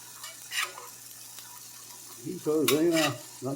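Homemade turkey breakfast sausage sizzles quietly in a pan with a faint steady crackle, broken by short bursts of louder spitting and a brief tonal squeal near the end.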